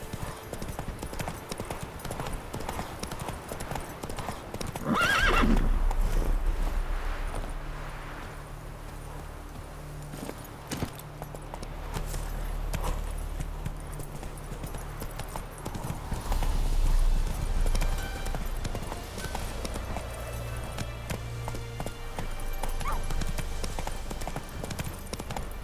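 Roach, Geralt's horse in The Witcher 3: Wild Hunt on Xbox One, gallops with steady, continuous clip-clopping hoofbeats throughout, loud and close, with a short whinny-like burst early on.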